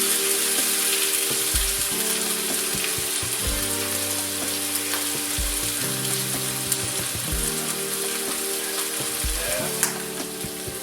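Beef searing in a hot pan for Beef Wellington, a loud steady sizzle and crackle of frying throughout, with music playing softly underneath.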